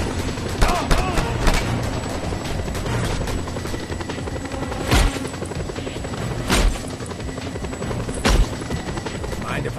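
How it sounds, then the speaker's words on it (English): Helicopter in the Just Cause 2 video game droning steadily throughout, with bursts of gunfire and several sharp loud impacts punctuating a dense, continuous mix. "Deal with that chopper, Rico, quickly!"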